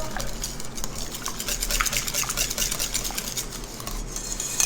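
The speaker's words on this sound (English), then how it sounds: "I'm just going to whisk that quickly to get that incorporated well." Whisking egg into warm pumpkin in a bowl, the whisk scraping and clattering steadily against the bowl for several seconds, close and fairly loud with no talking.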